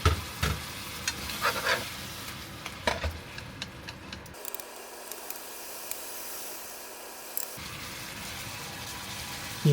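Chicken wings returned to a hot wok with passion fruit, mango and onion sauce, stirred with scattered scrapes and clinks over a steady frying hiss, quieting to a low sizzle midway before stirring picks up again.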